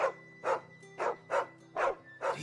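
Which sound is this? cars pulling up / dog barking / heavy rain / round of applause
dog barking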